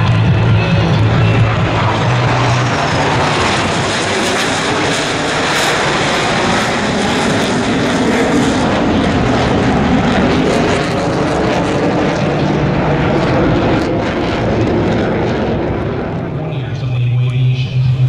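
US Navy Blue Angels jets roar overhead during the Delta Breakout at an airshow homecoming, a loud continuous engine roar that swells and holds for the whole stretch, with an announcer's voice over a loudspeaker beneath it.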